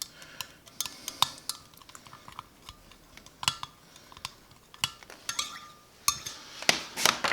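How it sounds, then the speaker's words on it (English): A utensil stirs hot black grape candy syrup in a pot, making irregular sharp clinks and scrapes that are close and fairly faint, with short bursts of clatter toward the end. "So we stir this up."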